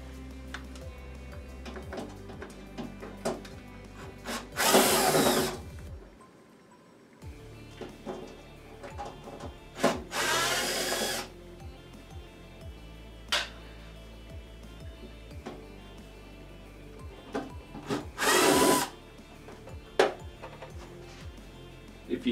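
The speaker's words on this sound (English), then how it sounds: "If you have a screw gun, you definitely want an extension on it so that you can reach these back screws easily." A screw gun driving screws while building a DIY incubator, three loud whirring bursts of a few seconds each spaced well apart, close by, with tapping and handling clatter between them.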